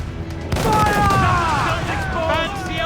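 Broadside ship cannons fire in an Assassin's Creed 4 Black Flag sea battle, a loud burst of booming shots kicking in after half a second and rolling on, with a voice calling out over the clamor.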